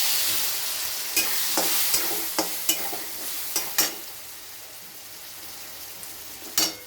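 Ridge gourd stir-fried in a pan with spices, a steady sizzle broken by sharp scraping strokes of the spatula at irregular intervals, close and fairly loud, with no voices.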